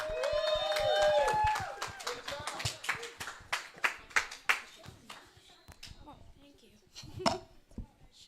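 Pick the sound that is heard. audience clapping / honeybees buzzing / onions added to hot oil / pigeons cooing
audience clapping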